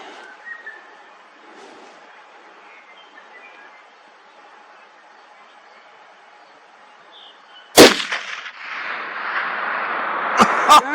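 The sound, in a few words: 308 Winchester 16-inch rifle shot at 1115 yards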